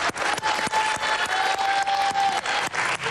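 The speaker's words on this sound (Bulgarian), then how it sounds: "Силни аплодисменти за Ланди." A studio audience on a game show applauds a contestant, loud rhythmic clapping with sharp, regular beats at close range, joined by a sustained musical tone underneath.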